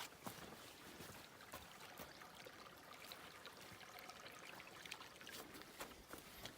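A small stream trickles along the Appalachian Trail, a faint continuous babble of water with soft splashes and no voices, close but quiet.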